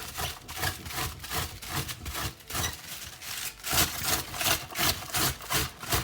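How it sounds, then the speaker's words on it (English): Cabbage shredded on a box grater, a close, rhythmic rasping with repeated back-and-forth strokes, each swelling and fading, with no talking. "let's shred our cabbage, and I'm going to be using this side of our grater to do our cabbage"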